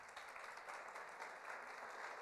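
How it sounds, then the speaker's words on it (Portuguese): Church congregation clapping during a Christian family discipleship class, a steady wash of many hands applauding at a distance, fairly faint and without a break. "Uma salva de palmas para ela"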